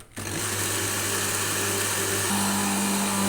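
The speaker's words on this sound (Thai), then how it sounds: "ปิดฝาแล้วปั่นเลยครับ" A blender whirs steadily as it purees a green seafood dipping sauce made with plain milk and lime juice. The motor hum is loud and continuous, and its pitch shifts slightly partway through, with no voices.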